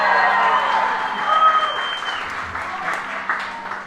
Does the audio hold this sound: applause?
yes